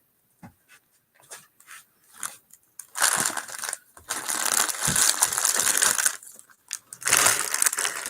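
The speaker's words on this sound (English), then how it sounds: "Sorry for the crinkling." Sewing fabric bundles or their plastic wrapping crinkle in loud, scratchy bursts: a few short rustles first, then a long sustained stretch of crackling handling, a pause and another burst at the end.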